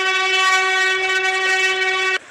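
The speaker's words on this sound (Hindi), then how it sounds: "देख ट्रेन आ गई" A train pulling into a railway station sounds a long, loud, steady horn with rich layered tones, held close for about two seconds before cutting off.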